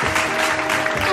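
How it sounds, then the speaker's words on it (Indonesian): Applause from an audience, a steady dense wash of clapping lasting about a second. "Tepuk tangan!"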